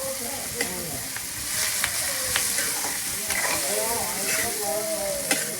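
Chicken wings sizzle and fry in a pan over an organic firewood stove, a steady crackling hiss broken by scattered pops and the scrape of stirring, with soft talk at moments.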